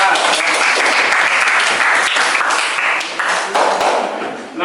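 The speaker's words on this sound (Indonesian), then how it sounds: "kasih tepuk tangan untuk kelompok A" A classroom group claps together in steady, dense applause for a student group, holding loud and even for several seconds before tapering slightly near the end.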